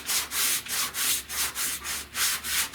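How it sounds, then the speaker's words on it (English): Hand sanding a car body panel with a small round block and 150-grit paper: about six steady back-and-forth rasping strokes, close and even in rhythm, with no talking. "I'm not sanding straight across, I'm rolling this block up one way and the X pattern down the other way."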